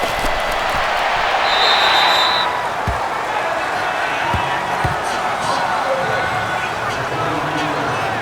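A packed stadium crowd roars steadily at an American football game between the Dallas Cowboys and Indianapolis Colts in Madden NFL 19, a dense continuous din with a few thuds and a whistle-like tone, though no one speaks.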